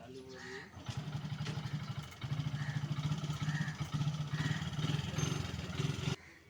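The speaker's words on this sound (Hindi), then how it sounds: "इसका क्लच प्लेट रिप्लेसमेंट हो चुका है, अब स्टार्ट हो गया गाड़ी।" Hero Glamour motorcycle engine idling steadily after a clutch plate replacement in a bike repair garage, a continuous low mid-pitched hum with light mechanical clatter that holds for about six seconds, then cuts off.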